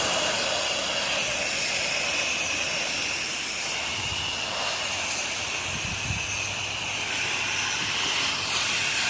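A pressure washer cleans a driveway caked with twenty years of dirt, its continuous loud hiss of spray steady throughout, with faint low thumps partway through.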